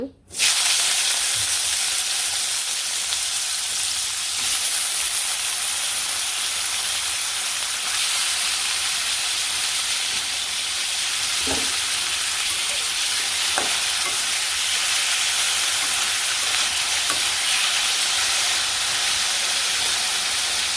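Potatoes fry in a pan, giving a continuous loud, close sizzle and hiss of hot oil that holds steady throughout, with occasional faint knocks as the pieces are stirred.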